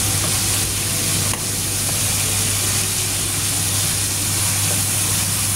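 Mushroom and sausage stir-frying for mala, with a loud, steady sizzle and faint stirring scrapes throughout, close up and unbroken.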